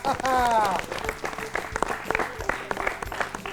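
A classroom of children breaks into brief, lively applause, clapping mixed with voices and a crowd murmur, close by and short-lived.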